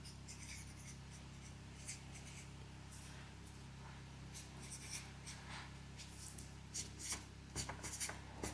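A pen scratches across paper in quiet, close strokes, short scribbles and pauses coming irregularly and building to quicker bursts near the end, with no one speaking.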